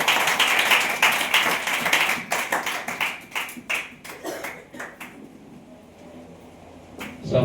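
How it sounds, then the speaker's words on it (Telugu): A church congregation clapping together during worship, loud rhythmic claps that begin dense and full, then thin into sparser, separate claps and fade to near quiet before a final burst. "చప్పట్లు కొట్టుకుంటూ ప్రభు నామమున పలుకుతున్నాం."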